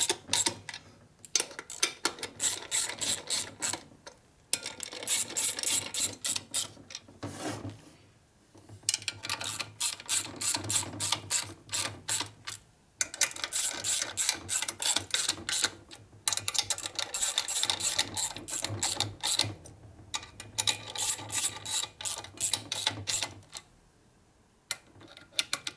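Rapid ratcheting clicks from a wrench turning bolts on a 1965 Harley-Davidson 74ci FLH panhead engine during a rebuild, in repeated bursts of several seconds separated by short pauses, close and fairly loud.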